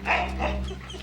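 Dogs barking in a short, close burst of a couple of loud yaps, then fading to a lower growly tail over a steady background hum.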